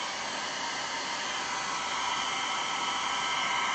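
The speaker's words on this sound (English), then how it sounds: "Is the hairdryer too loud?" A handheld hair dryer without a cool button blows steadily at close range, a dense, even whoosh of airflow that rises slightly in loudness and runs unbroken with no voices.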